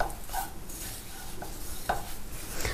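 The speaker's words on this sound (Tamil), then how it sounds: "இப்போ இதை வந்து கலந்து விட்டுகிட்டே இருந்தீங்கன்னா பாருங்கள், அது நல்லா வெந்து கொஞ்சம் உதிர உதிராக வரணும்." Ragi upma being stirred in a pan, with soft scraping and tapping strokes of a spatula repeating every second or so against a faint sizzle.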